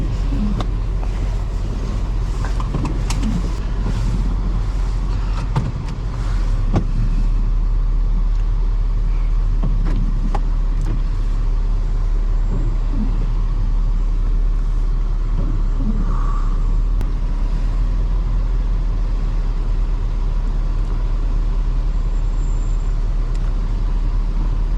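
A 2005 Toyota Highlander drives through a winter storm, heard from inside as a steady low road and engine rumble with tire noise that stays constant throughout, with no voices.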